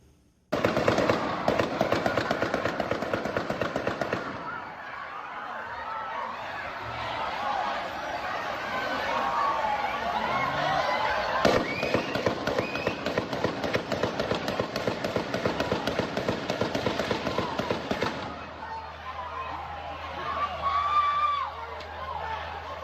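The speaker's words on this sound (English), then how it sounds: "you can hear dozens of shots ring out in a very, very short amount of time" Dozens of gunshots ring out in rapid bursts at a Fourth of July parade in Highland Park, a dense crackling volley that pauses briefly and resumes, heard from some distance with crowd noise mixed in, lasting about twenty seconds.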